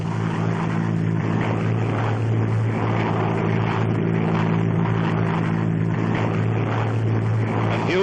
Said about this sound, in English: Only 100 miles an hour, throttle all the way back, side slipping to come over the dropping area.